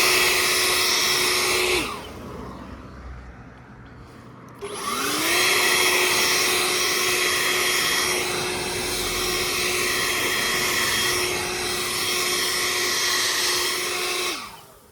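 EGO LBX1000 cordless leaf blower running in turbo mode: a loud, steady, high-pitched rushing whine, close by, that drops briefly, surges back to full power and holds before cutting off at the end.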